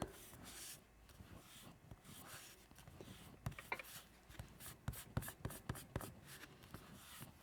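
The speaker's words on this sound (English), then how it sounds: "I also know I need my eraser" A pencil eraser rubs out pencil lines on paper in short, scratchy bursts close by, the strokes quickening and getting denser toward the end.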